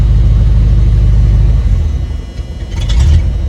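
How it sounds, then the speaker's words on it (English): An old shop truck's engine idles close and loud with a low rumbling chug, the steady throb wavering and dipping midway as the idle roughens, with no talk. "Let take your foot off the gas. It'll idle smooth. It'll start chugging."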